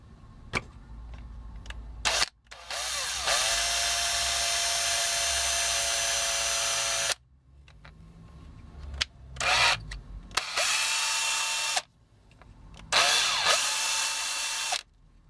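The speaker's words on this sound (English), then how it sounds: "I'm supposed to drill all the way through." A power drill whines loudly in several long bursts drilling through a Pepsi bottlecap action figure, separated by short pauses and a few clicks, close up and with no voices.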